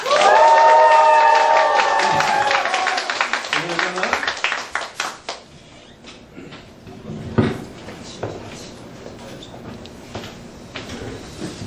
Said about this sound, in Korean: 다시 한번 뜨거운 박수와 한화성과 함께 시작!